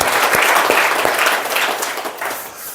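A church congregation applauding, dense clapping that starts full and loud, then gradually thins and fades over a few seconds.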